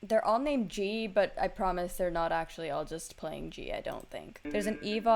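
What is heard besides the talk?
No everyday noise stands out behind the speech.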